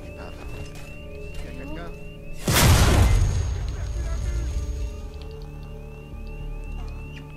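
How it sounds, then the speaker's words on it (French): A flash grenade bursts in Alien Isolation, a sudden loud broadband blast with a hissing, ringing decay over several seconds, set against steady game ambience with faint chirping tones. "Grenade aveuglante"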